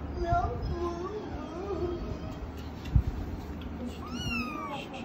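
A kitten gives a few thin, rising meows close by, with soft background noise and a short knock midway.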